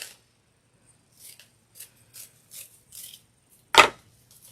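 Scissors snip through mesh ribbon for a black and white Halloween pumpkin arrangement, giving a series of short, close crisp cuts followed by one louder, sharper snip.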